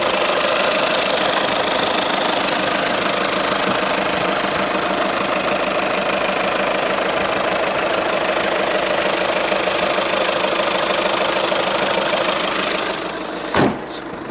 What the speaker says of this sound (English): It's a very clean engine.